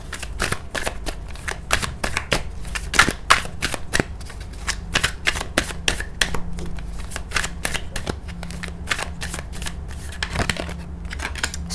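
Tarot cards are shuffled by hand in rapid, crisp riffles and slaps, a dense run of sharp papery clicks close up for the whole stretch, with no voices.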